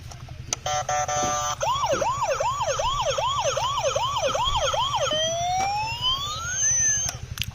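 A toy ambulance siren gives a loud electronic wail that rises and falls in about ten quick even cycles, then changes to slower sweeping tones near the end, with no talking.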